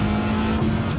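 A race car engine in Gran Turismo 7 revs loud and throaty under throttle, a brief, continuous droning roar.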